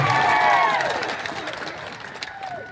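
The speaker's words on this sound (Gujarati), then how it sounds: "આપણે એમને જોરદાર તાળીઓના ગણગણાટથી એમનું સ્વાગત કરી લઈએ" Applause and crowd cheering at an outdoor political rally, loud at first as a speaker is welcomed and then gradually fading away.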